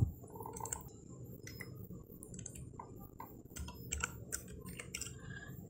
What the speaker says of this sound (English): And now you have to check the location where you have to save this file. I save this in desktop, and now you type the file name.